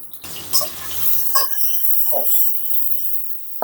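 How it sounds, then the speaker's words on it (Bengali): Crushed garlic and chopped onion hit hot oil in a pan while prawns are being cooked, starting with a sudden hiss and then settling into a steady crackling sizzle with a few sputters, with no one speaking. "রসুন একটু ভেজে নিয়ে 3 টেবিল চামচের মতো পেঁয়াজ কুচি দিয়ে দিলাম।"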